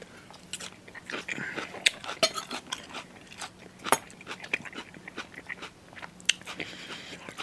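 Close, crunchy biting and chewing of Jack Daniels BBQ chicken with smoked onion, irregular wet crunches and smacks repeating over several seconds with no talking.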